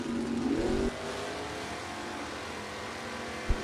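A 1991 Mustang GT and a Pontiac Grand Prix at a drag race, a loud engine roar at the start dropping to a steady distant engine drone, with a sharp knock near the end.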